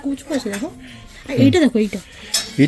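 Metal spoons and cutlery clink and rattle against dishes at a lunch table, a few light chinks scattered under close, continuous talking.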